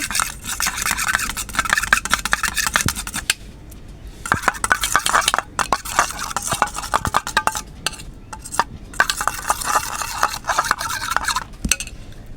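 Food colour stirred into melted kunafa chocolate mixture, a close rasping scrape of a spoon against a bowl in rapid repeated strokes, with brief pauses and clinks, no talk.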